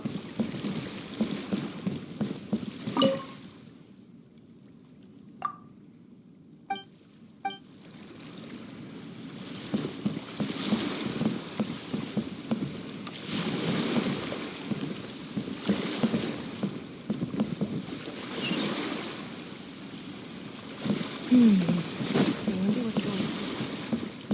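A boat moves across calm ocean waves in Genshin Impact, with a steady soft wash of water and wind under recurring talk, plus a few faint chimes early on.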